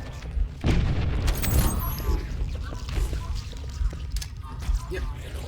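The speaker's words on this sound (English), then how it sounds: "There's explosions happening constantly, so the weapons get stuck in the wall like that." Continuous explosions, booms and crashes from Halo: Combat Evolved gameplay on the Keyes level with grenades, forming a dense, loud barrage that runs the whole time with no pauses.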